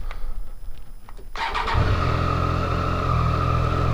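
A Triumph Street Triple 765RS three-cylinder motorcycle engine cranks and fires up after a quiet moment, settling into a loud, steady close-up idle with no one talking.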